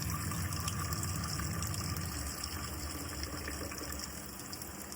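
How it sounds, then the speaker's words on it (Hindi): Water running steadily from a kitchen tap while food is washed, a constant close hiss and splash that eases slightly toward the end, with no talking. "पानी स्लो करो, पानी तो ऐसे भी नहीं आ रहा।"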